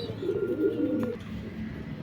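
Pigeons of a Pakistani bloodline coo close by, a low soft rolling call over about a second, then quieter murmuring.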